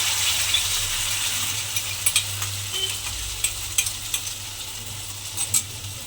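Spice paste sizzles steadily in hot oil left from frying paneer, a broad continuous hiss with a low hum beneath and scattered sharp clinks and scrapes of stirring, no voices.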